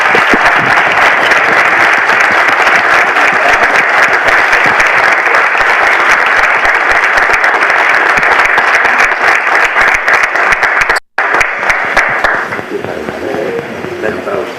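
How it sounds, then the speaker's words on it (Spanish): Loud, sustained audience applause for a speaker at a conference on public procurement ethics, a dense roar of clapping that breaks off for an instant near the end and returns softer with some background murmur. "Despidámoslo por favor con un aplauso."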